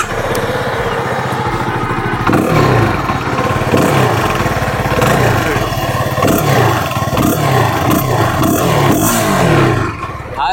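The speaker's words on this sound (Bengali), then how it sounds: "আমি বাইকটা একটু স্টার্ট করি এবং বাইকটার সাউন্ডটা আপনাদেরকে শোনাই।" A CFMOTO 250SR motorcycle with an aftermarket exhaust idles and runs steadily, close and loud, with a continuous engine rumble and a few throttle blips and no talk.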